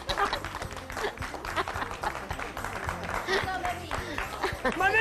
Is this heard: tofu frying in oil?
no